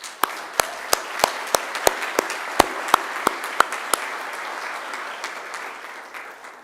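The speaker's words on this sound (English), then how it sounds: "I'd ask you to give them a round of applause too" An audience applauds at a Macquarie University graduation ceremony, a broad wash of clapping lasting several seconds, with a series of sharp, evenly spaced louder claps from nearby hands that stop partway through as the applause fades out.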